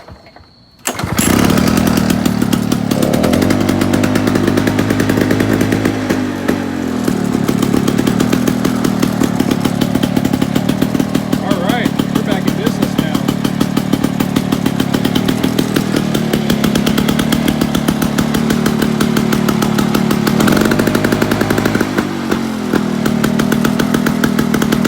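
A Lawnboy M Series lawn mower's small two-stroke engine, fitted with a new ignition module, fires and runs loud and close for about twenty seconds, its buzzing drone dipping briefly twice before picking back up, outdoors at night.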